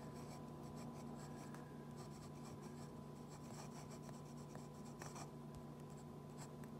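A Montegrappa Heartwood fountain pen with a steel nib writing reversed on paper, a close, light scratchy glide in short bursts of strokes over a faint hum.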